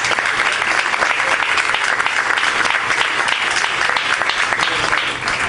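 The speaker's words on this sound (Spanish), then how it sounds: "Les voy a pedir, por favor, un gran aplauso para estos valientes que levantaron la mano." An audience at a conference gives loud, sustained applause for volunteers, a thick, continuous wash of clapping that holds steady and eases slightly at the very end.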